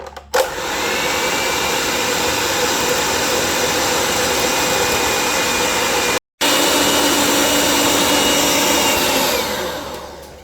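An electric mixer whips Jamaican black rum fruit cake batter with a loud, continuous whirring drone that cuts out for a split second midway, then runs on before winding down.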